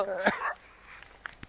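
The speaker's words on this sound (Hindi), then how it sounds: "कुत्ता भौंक रहा है हमें दोनों को देख के" A dog in wheat fields at night gives one loud, fairly close bark followed by a few faint clicks and rustles.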